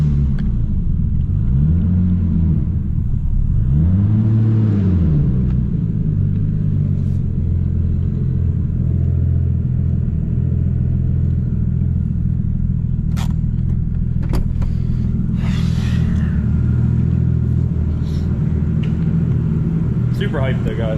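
A Nissan R32 Skyline engine idles with no turbo fitted, a steady low rumble with a couple of brief rises in pitch early on, heard close in the engine bay with some faint clicks and knocks.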